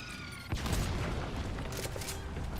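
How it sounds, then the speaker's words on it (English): Mortar fire in Metal Gear Solid V: a sharp blast at half a second, then a dense rumbling barrage of booms and gunfire rolling on loud and steady to the end, with no talk. "There's the mortar, bro."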